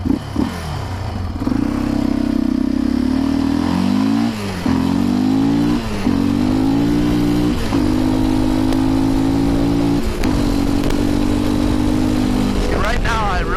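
A Yamaha Raptor 700R ATV engine runs with its airbox removed, a loud, close, throaty idle with repeated blips of revving rising and falling in pitch, clattery mechanical noise underneath.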